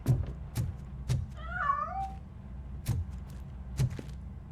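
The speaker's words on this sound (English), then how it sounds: "That cat must be hiding inside." A cat meows in a RoboCop Rogue City game scene, one drawn-out wavering meow amid sharp knocks and thumps from movement, fairly close and clear with no talking.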